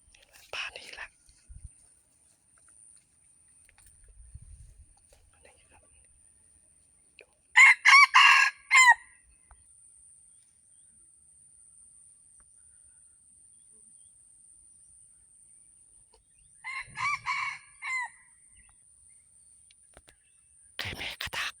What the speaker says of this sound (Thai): ไก่ป่ามาแล้วไก่ป่ามาแล้ว